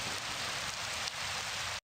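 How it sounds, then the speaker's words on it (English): Steady rain hiss from the indie RPG Just Beneath the Skin, a dense, even wash of drops on a surface that holds at one level throughout and then cuts off abruptly, with no voices. "it looks like the rain's going up"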